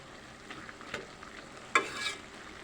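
Fish curry with potatoes is stirred in a pan, giving a faint background sizzle and a few quiet scraping strokes, the sharpest one near the end.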